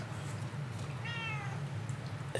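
A single drawn-out meow from a cat, fairly faint and somewhat distant, rising over a quiet low room hum with no talk.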